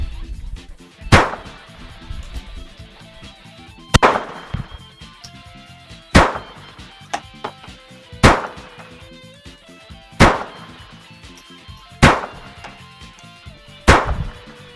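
A VZ61 Scorpion fires seven single test shots, each a sharp, loud crack with a short decay, spaced roughly two seconds apart.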